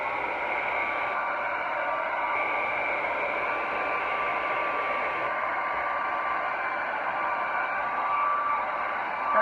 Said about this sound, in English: I have a hairdryer, so sorry for the noise.